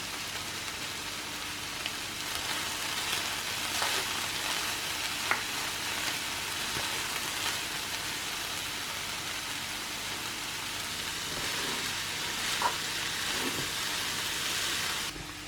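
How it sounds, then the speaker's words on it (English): Ground beef browns in a pan, a steady broadband sizzle running unbroken throughout with occasional louder pops and crackles, close and fairly quiet, no voices. "while the meat is browning behind me and sizzling away"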